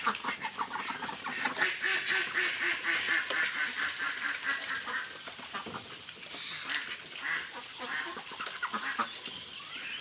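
A flock of ducks quacking busily and continuously close by, overlapping calls with no talking.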